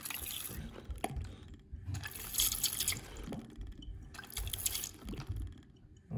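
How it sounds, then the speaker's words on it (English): Water gushes and trickles from a bucket flush siphon on a mini Kohler Dexter urinal, coming in bursts of splashing flow with quieter dripping gaps between, fairly faint and close. "Now here's just a bucket flush or just a siphon."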